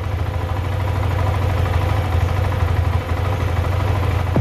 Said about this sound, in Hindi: आरपीएम कम हो गया बाइक का।